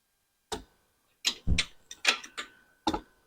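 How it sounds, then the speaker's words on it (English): A socket wrench with a short socket ratchets a handlebar bolt on a 2006 Harley-Davidson Street Glide, in several short bursts of clicking separated by brief pauses, close and clear. "I'm going to use a short socket on this so that my bolt head doesn't drop down in my socket."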